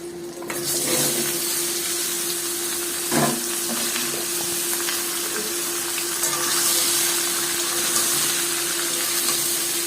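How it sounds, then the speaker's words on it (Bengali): Diced bottle gourd, cut into fairly large cubes, sizzles steadily in oil in a pan for a fish-head curry, a continuous close hiss with a brief clatter near the start and no talking. "এই লাউগুলো আমি এখন ছেড়ে দেবো।"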